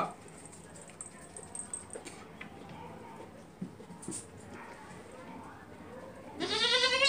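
A goat bleats at the end of a stretch of farm handling noise during a vaccination session for a herd of around fifty goats, loud and near, with a quieter background before it.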